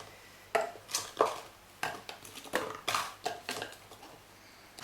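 Ingredients for a vegan chocolate banana ice cream, including vanilla, go into a blender in a home kitchen, giving about ten close, irregular clinks and knocks against the jar, with no talking.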